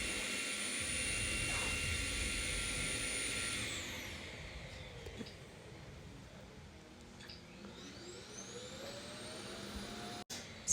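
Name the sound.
vacuum cleaner running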